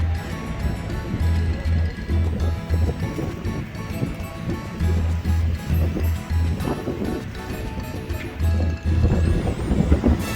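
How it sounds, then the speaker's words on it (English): A pilot boat comes alongside a cruise ship out at sea, its engine a low rumble under steady wind buffeting and the wash of water and waves, fairly close and continuous. "This is the pilot boat."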